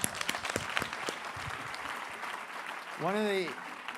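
Applause from an audience, a dense patter of clapping lasting a few seconds, with a short rising-falling tonal sound near the end.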